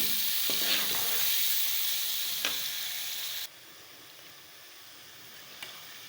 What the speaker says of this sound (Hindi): मसाले को अच्छी तरह से भून लेंगे।